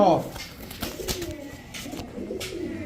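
Chocolate racer pigeons at a pigeon seller's stall give low, rolling coos that repeat softly through the clip against a background murmur.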